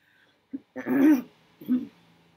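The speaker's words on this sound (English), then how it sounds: "Sorry for my cough." A person coughs, a short throaty bark followed by a fuller rasping cough and one more smaller cough, close and fairly quiet in a calm room.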